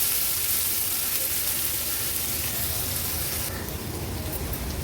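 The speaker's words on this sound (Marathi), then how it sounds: "कांदा आणि मिरची देखील आलं लसणासोबत शिजवून घ्यायचे" Chopped onion and green chilies fry with ginger and garlic in hot oil, giving a loud, continuous crackling sizzle that eases slightly toward the end.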